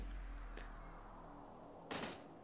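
Gunfire in PUBG Mobile's winter mode, heard from inside a cable car: a brief sharp shot, then a louder burst of two or three reports near the end, over a steady low rumble.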